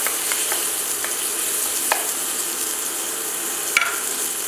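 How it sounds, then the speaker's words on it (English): Onions sauteing in a pan for collard greens, a steady close sizzle and crackle with a few scattered pops and light stirring clicks, no talking. "I'm going to saute some onions here."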